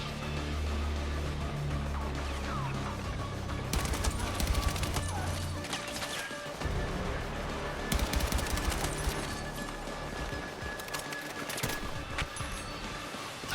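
Gunfire from a newly tried gun in Battlefield 6, with rapid bursts of automatic shots over a steady low rumble of in-game battle noise, growing denser in two loud stretches.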